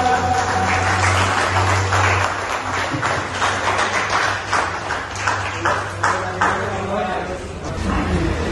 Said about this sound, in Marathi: जरा त्यांच्यासाठी एका जोरदार टाळ्या.